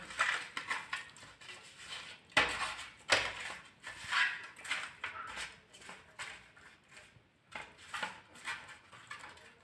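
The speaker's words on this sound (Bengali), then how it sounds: "হলুদ দিয়ে দেবো মাখিয়ে নেবো ভালো করে" Close, irregular wet squelching and soft clatter as pieces of Silver Calf fish are kneaded with turmeric by hand in a bowl, in uneven bursts with brief pauses and no talking.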